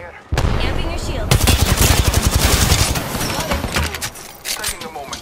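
Apex Legends gunfire: rapid automatic bursts rattling loudly and close, a dense stream of shots lasting a few seconds, with a voice speaking over it.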